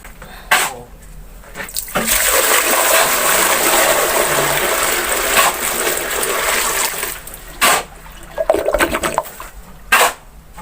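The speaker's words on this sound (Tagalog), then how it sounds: "Ako bubuan ng tubig ang flooring mga classmate." Water gushing and splashing onto a newly laid concrete bathroom floor, a loud continuous pour lasting several seconds, followed by shorter bursts of splashing.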